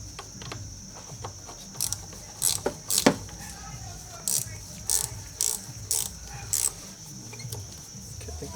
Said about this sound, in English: So I'm going to loosen up this, which is a very tiny little bolt.